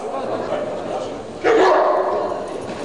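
Dogs bark and yip over a busy indoor crowd murmur at an international dog show, with a sharper burst of barking cutting in partway through.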